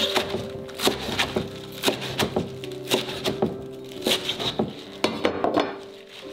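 A knife cuts napa cabbage lengthwise on a wooden cutting board in a kitchen, giving a steady series of sharp, close, crisp chops and knocks at an unhurried rhythm.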